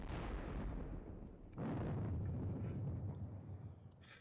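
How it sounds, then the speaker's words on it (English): A 6-inch howitzer fires in a wargame: deep booming blasts open the clip and a second heavy report lands mid-way, each rolling out into a long low rumble with no talking. "Shoot them while you can. Howitzer. 6-inch howitzer."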